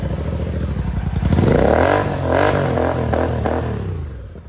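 A GT650 motorcycle fitted with a Red Rooster silencer revs hard, its loud, close exhaust rising into a couple of throaty blips before settling back toward idle, with no talking.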